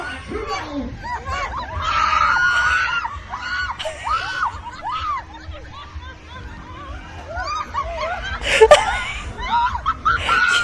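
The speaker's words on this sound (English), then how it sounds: "I was screaming through pure fear of my life." Screaming and shrieking voices on a fairground ride, a crowd yelling in fear, with high wavering cries rising and falling continuously and loud throughout, plus a sharp louder outburst near the end.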